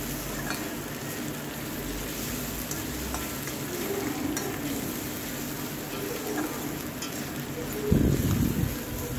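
Spice paste frying in oil, a steady moderate sizzle with soft stirring, ending in a louder burst of spatula scraping near the close.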